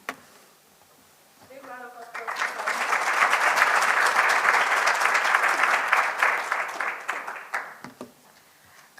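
A brief remark, then a symposium audience bursts into sustained applause for the presenters that swells, holds for several seconds and fades away as a voice returns.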